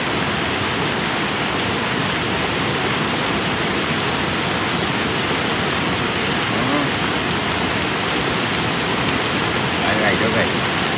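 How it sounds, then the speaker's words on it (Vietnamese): Heavy flood-season rain pours down in rural Vietnam as a loud, even roar of drops striking surfaces. It is constant and close for the whole stretch. "Ôi mưa rồi em ơi."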